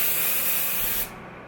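Eva NYC Seeing Stars gold glitter hair spray released into the open air in one steady, close hiss lasting about a second, then cutting off abruptly.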